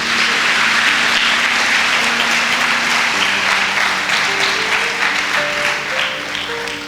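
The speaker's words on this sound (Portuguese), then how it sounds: "Dê um aplauso a Jesus." A church congregation applauds steadily and loudly throughout, a dense wash of clapping with a faint musical tone underneath.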